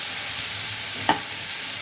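Pointed gourd peels, frying with potato, onion and garlic, sizzle loudly and evenly in a pan, broken by a single brief scrape or tap of a stirring spoon.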